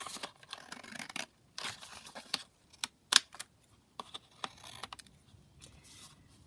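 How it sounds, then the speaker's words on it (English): Scissors snip and trim across the end of fabric at a sewing workbench, a quick series of close, sharp cuts and rustles with short pauses between them and no talking. "So I'll just trim across the end there."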